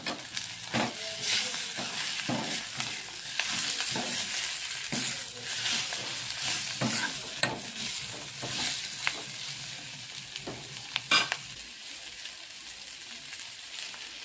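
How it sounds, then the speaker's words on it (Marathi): Karadai (safflower) leafy greens being stirred as they fry in a pan, a continuous hissing sizzle broken by repeated scraping spoon strokes in an uneven rhythm, close up, with no voices. "आता भाजी टाकत आहोत। ती पण मिक्स करून घ्यायची।"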